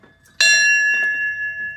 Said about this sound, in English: Why don't you go right in there and pull that cord? You can ring that bell.